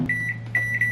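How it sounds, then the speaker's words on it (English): A microwave oven is set to heat frozen brownie muffins: a steady low hum runs under a series of short, bright electronic beeps heard up close. "So I just pop it in the microwave for like, I forgot how long."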